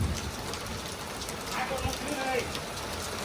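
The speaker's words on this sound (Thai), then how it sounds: "ฝนตกอีกแล้ว" Rain falling steadily outdoors near a car and a mango tree, a constant broadband hiss of drops with faint voices and movement under it.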